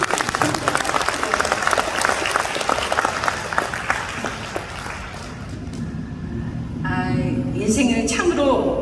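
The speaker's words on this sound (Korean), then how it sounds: "맞다면 박수 쳐주세요." Audience applause at a lecture hall event in Gimhae, a crowd clapping steadily and fairly loud for several seconds, thinning out before mixed crowd murmur and shuffling noise rise toward the end.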